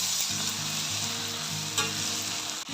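Chicken pieces being stirred into masala frying in a pan for chicken gravy, a steady close sizzle with scraping stir strokes and a low harmonic hum underneath, no talking.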